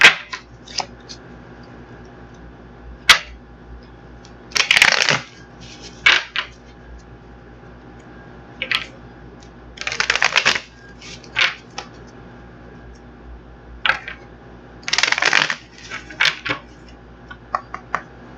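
Close-up tarot card shuffling: three longer papery riffling bursts spaced several seconds apart, with light taps and clicks of cards in between, no voices.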